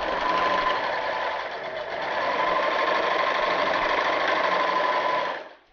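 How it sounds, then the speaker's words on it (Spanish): A sewing machine runs a steady straight seam on a beach bag, a continuous mechanical whir of fairly constant speed for several seconds before stopping abruptly at the end, with no talk. "Costura recta."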